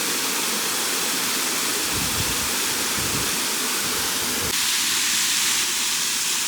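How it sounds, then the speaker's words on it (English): Waterfall beside a bridge on a carriage road used by horses and carriages in winter, a steady broadband roar of rushing water filling the whole clip, close and loud, growing slightly brighter toward the end, with no voices. "There's the waterfall."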